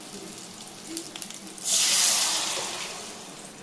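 Masala water is poured into a hot pan of tempered spices for fish curry, setting off a loud, bright sizzle that swells suddenly and then slowly fades.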